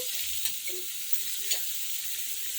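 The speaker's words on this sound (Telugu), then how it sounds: "ఇక్కడ ఆనియన్స్ అయితే బ్రౌన్ కలర్లోకి వస్తున్నాయండి" Onions browning in a pan for a vegetable curry give a steady, bright sizzle with faint stirring scrapes, close and continuous, with no one talking.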